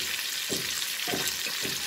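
Potatoes sauté in a pan for aloo bhujia with a steady close hiss and sizzle, broken by a few soft stirring scrapes.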